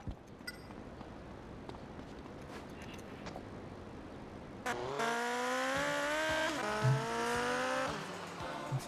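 A motorcycle ridden in the PS2 game GTA Vice City Stories: quiet game ambience, then a sudden engine roar with rising revs and some tire noise for several seconds, loud and steady, with no talk.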